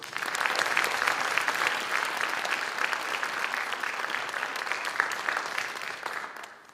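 Sustained applause from a school board meeting audience honoring student Caden Poole, steady and full for several seconds before fading out at the end.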